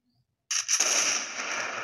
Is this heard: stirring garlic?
no